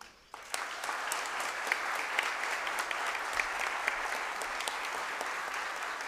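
A room full of people at a formal legislative ceremony applauds continuously, dense steady clapping with a few sharper claps standing out, no pauses.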